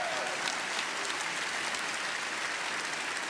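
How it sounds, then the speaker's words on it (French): Dense, steady applause from a packed hall at a political rally in Cannes, a continuous wash of clapping that holds at full strength from start to finish without pause. "c'est bien d'applaudir Blaise Pascal"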